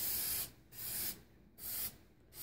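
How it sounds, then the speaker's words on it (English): Aerosol spray paint can giving a light coat to a brass fireplace surround, three close hissing bursts of about half a second each separated by brief pauses. "So I'm gonna go ahead and just do a light coat on here"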